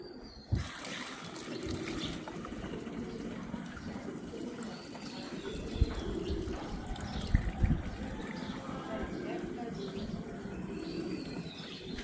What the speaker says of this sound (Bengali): এখন আমরা এই জার্কিনটাতে আমরা আমাদের তেলটা খালি করে রাখবো।